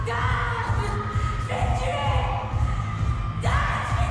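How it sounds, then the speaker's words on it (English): People yell in a chaotic party scene from the A24 film Climax, several overlapping loud shouts rising over a heavy, thumping low music bed. "Oh, all this yelling."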